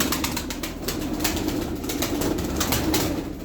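Aksaray tumbler pigeons, play birds from Aksaray, give soft repeated coos mixed with bursts of wing fluttering, a busy, close flock sound that carries on steadily.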